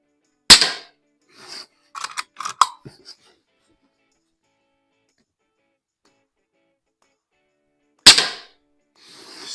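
A Norica Variatus 2.0 .22 bullpup air rifle fires at an outdoor range, giving two sharp, close cracks about seven seconds apart. A brief cluster of clicks and handling noises follows the first shot, and no one talks.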